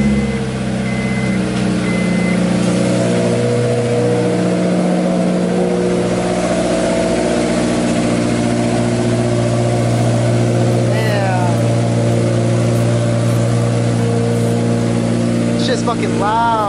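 A loud car engine runs close by with a heavy, steady idle drone and slight rises in revs, while people talk intermittently over it.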